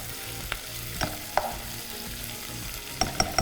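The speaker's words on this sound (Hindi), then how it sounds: "प्याज को थोड़ा सा और पकाएंगे, बिल्कुल ब्राउन नहीं करना है" Onions fry in a pan for a karahi dish, giving a continuous close sizzle with a few sharp spatula taps and stirring clatters, and no speech.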